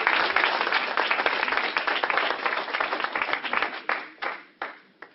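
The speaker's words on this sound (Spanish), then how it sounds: "Fuerte aplauso al grupo de San Diego." Crowd applauding a visiting group from San Diego at a business presentation, dense clapping that thins out toward the end into a few scattered, separate claps.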